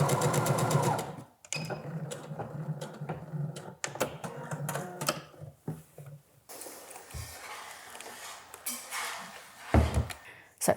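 A sewing machine stitches a dress lining in several rapid mechanical bursts separated by pauses, with scattered clicks and handling noises in between, all close by.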